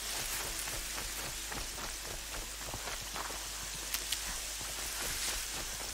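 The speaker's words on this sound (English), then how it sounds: "it's raining very heavily" Heavy rain pours steadily in the Horizon Zero Dawn video game, a dense, continuous hiss of drops hitting the ground, with a few sharper taps rising briefly near the middle.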